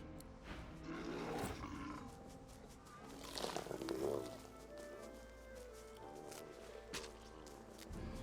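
Bears roar in the fantasy role-playing game Divinity Original Sin 2, two loud growling bursts rising over a busy game soundscape with background voices and footsteps.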